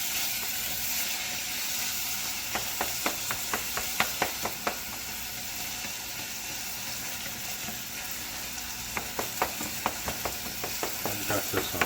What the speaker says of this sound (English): I'm going to stir these for a few minutes till the tomatoes and the onions kind of break down